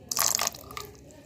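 Water poured into homemade KFC-style chicken batter in a mixing bowl: a short splashing pour with dripping, loudest at the start and then fading into a few quieter drops.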